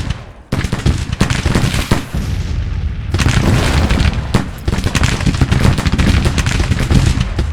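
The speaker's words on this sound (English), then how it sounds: "Getting some good enfilade fire on him." Massed rifle volleys crackle and boom in Grand Tactician: The Civil War, a dense, continuous rattle of gunfire with heavy low thuds that barely pauses, loud and close throughout.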